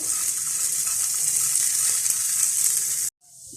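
Nuts roast in ghee in a pan with a steady, bright sizzle that crackles up close, then cuts off abruptly near the end before a faint hiss returns.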